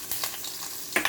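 Cumin seeds sizzle and crackle in hot oil in a kadai, a steady close frying hiss with a few sharper pops, no voices.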